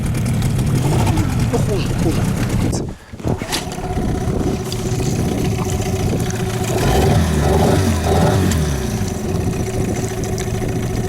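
A 9.9 hp outboard motor on a boat, Yamaha or Suzuki, running at slow trolling speed with a steady mid-pitched hum and a brief dip partway through, while someone talks over it throughout.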